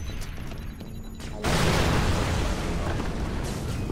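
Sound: grenade explosion in video game Far Cry 3 Blood Dragon

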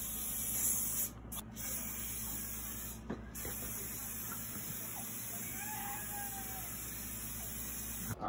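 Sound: spraying cooking oil for brownies

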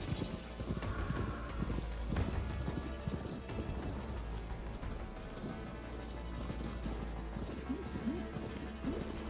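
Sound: horse galloping in a video game

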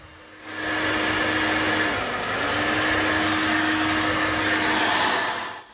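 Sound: cleaned hair dryer blowing at full strength

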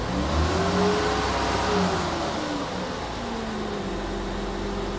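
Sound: Honda Odyssey engine running after misfire code erased

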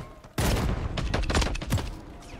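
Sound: shotgun gunfire in Call of Duty MWIII video game

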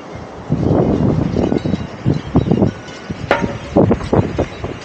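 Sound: wind blowing outdoors

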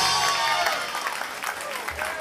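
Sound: concert crowd applauding the drummer

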